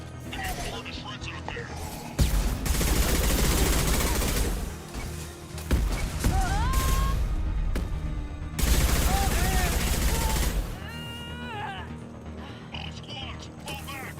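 Mass Effect Legendary Edition video game gunfire, rapid rattling bursts of automatic weapon fire in two long stretches, loud and dense, with mechanical clatter and brief electronic chirps between them.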